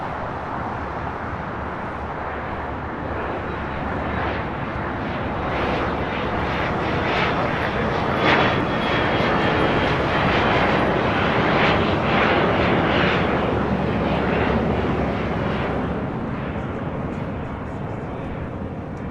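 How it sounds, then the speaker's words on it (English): An Emirates Airbus A380 bound for Dubai takes off from LAX, a loud, sustained jet roar that builds and stays strong through the middle before easing slightly, with no talk over it. "Emirates 37 Victor Super taking off to Dubai on the A380"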